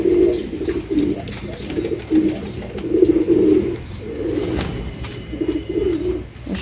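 Pigeons coo steadily in a wooden pigeon house, their low rolling calls repeating in close, loud phrases almost without pause, with faint chirps above.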